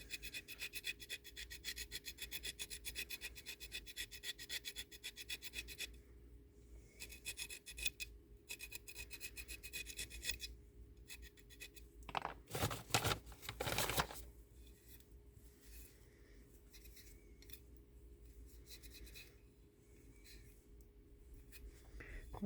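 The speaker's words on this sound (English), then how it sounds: "I need to sand it down more" Sanding a cured resin mold pour by hand: quiet, continuous rasping strokes scratch on for long stretches, broken by short pauses and a brief louder burst of rubbing in the middle.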